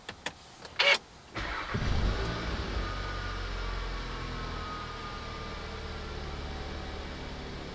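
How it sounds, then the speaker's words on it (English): A VW Golf R is started after a few clicks and thumps, the engine cranking and catching with a brief rev before settling into a steady, fairly quiet idle. "We're going to start the vehicle now."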